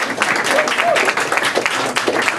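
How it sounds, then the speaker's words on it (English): An audience at a Eugene Symphony Guild event applauds its sponsors with dense, sustained clapping that fills the room from start to finish. "Can we give them a round of applause?"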